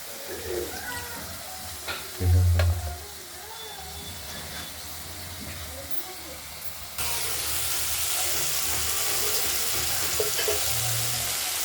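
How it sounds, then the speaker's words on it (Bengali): Prawns sizzle in a hot wok with a steady hiss, a few low bumps and voices murmuring in the background. "চিংড়ি মাছগুলো ভাজা হয়ে গেছে"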